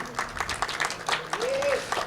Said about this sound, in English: Everybody is applauding your presence.